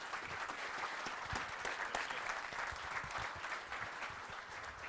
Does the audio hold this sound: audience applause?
yes